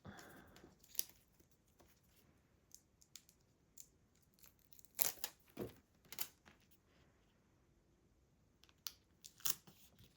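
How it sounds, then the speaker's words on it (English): Paper backing is peeled off small adhesive stickers for book-page tags, producing faint intermittent crinkly tearing and crackling bursts in a quiet room, close up and without speech. "I'm having such a hard time getting the backing off"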